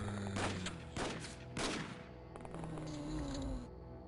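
Shotguns firing in the XCOM video game: three booming blasts about half a second apart, followed by a softer mechanical reload-like clatter.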